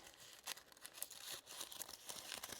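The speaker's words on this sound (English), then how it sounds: "I'm going to crumple it up." Paper crumpled up by hand at a craft desk, a quick series of close crinkling and crackling bursts with no voices.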